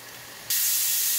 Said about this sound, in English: It's sealed up, it's pressurizing. You can hear it, the steam coming out.